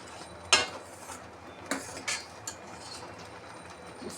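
Vermicelli kheer being stirred in a pot after coming to a boil, with a few clattering scrapes of a spoon against the metal spaced over a few seconds, fairly close and moderately loud above a quiet background.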